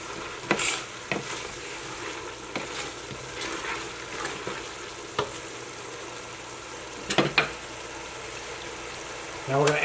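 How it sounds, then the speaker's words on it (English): Chicken and chorizo sizzle in a pan while white wine is stirred in to deglaze, with a steady fry hiss and scattered scraping knocks of the spoon against the pan. "We'll give that a good stir. just to get any brown bits up that we made, called deglaze."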